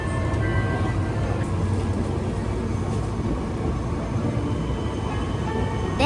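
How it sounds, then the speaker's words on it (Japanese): Steady rumbling of a Nankai mountain railway train climbing a steep grade toward Koyasan, heard from inside the carriage, with continuous low mechanical drone and occasional clatter throughout. "まさに山岳鉄道と呼ぶにふさわしい急斜面を登っていくダイナミックな"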